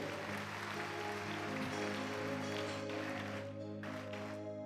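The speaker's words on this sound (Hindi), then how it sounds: "ताली बजाओ उसकी तारीफ के लिए" A congregation at a church sermon claps steadily and loudly throughout, a dense patter of applause mixed with sustained background music.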